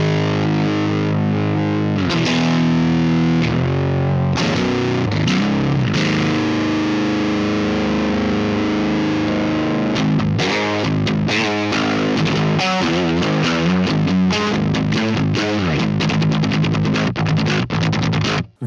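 Heavily distorted electric guitar through a Neural DSP Mesa Boogie Mark IIC+ amp plugin plays a loud, continuous riff of sustained chords and quick chugging notes, alone with no voices.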